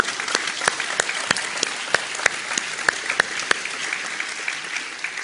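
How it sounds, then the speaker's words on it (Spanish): A church congregation claps loudly and steadily during a sermon, a dense wash of applause with sharp individual claps standing out, continuing without any voices. "demos un fuerte aplauso al Señor"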